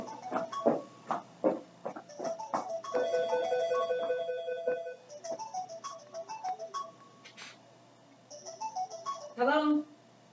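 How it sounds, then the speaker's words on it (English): A cell phone ringtone goes off during a class, a rhythmic electronic melody of repeated tones that plays in bursts with pauses, heard close and moderately loud with no talking over it. "that's my phone ringing"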